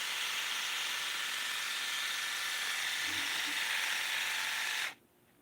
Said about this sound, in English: It's a wet dry epilator.